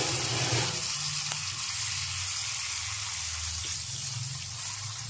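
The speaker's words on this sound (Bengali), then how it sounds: "মাছগুলোকে একটু ভেজে নিচ্ছি।" Prawns frying in hot oil in a pan for a Bengali potol chingri dish, a steady close sizzle and crackle lasting throughout with no talk.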